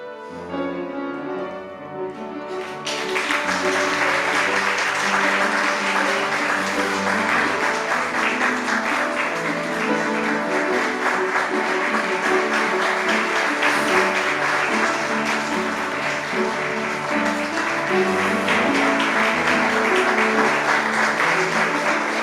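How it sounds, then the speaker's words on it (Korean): A church congregation bursts into sustained applause during a Sunday service after a few seconds of quiet, clapping steadily and loudly for the rest of the clip. "박수로 이따 해주시면 되겠습니다"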